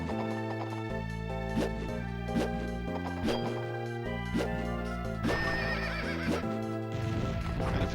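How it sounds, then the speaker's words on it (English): In the 2008 video game Castlevania: Order of Ecclesia, a horse neighs repeatedly and clip-clops over game music and sound effects. "I feel bad for killing the horse then"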